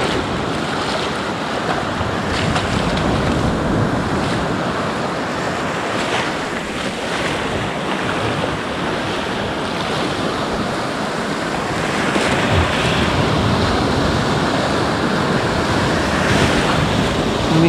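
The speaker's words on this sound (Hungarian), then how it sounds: "Ismét föltámadtak a hullámok." Sea waves roll and break on a shore at Sarti in Greece, a steady wash of surf with gusts of wind buffeting the microphone, no voices.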